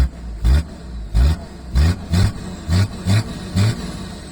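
Nissan Patrol engine revving in repeated bursts while accelerating, about eight throttle blips in a steady rhythm, loud and close with a low rumble between pulses and no talk.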